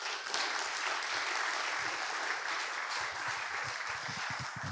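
Sustained applause from a large audience at a startup pitch competition finals, steady and dense clapping throughout with no pauses.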